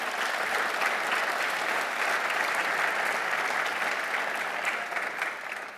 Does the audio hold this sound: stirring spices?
no